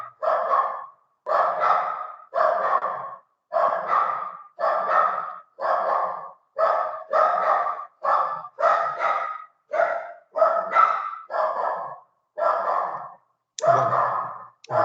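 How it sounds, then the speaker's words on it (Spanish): A runaway neighbour's dog barking repeatedly in a steady series of loud, close barks, about fifteen in a row with short gaps, no talk over them. "Por acá hay un perro del vecino que se ha escapado de la casa y viene a molestar aquí."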